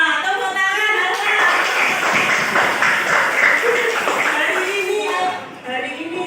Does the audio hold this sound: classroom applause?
yes